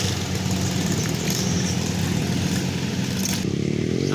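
A motorcycle hauling a rice harvest in a field runs with a steady, loud engine drone throughout, holding an even idle-like hum with a slight shift near the end.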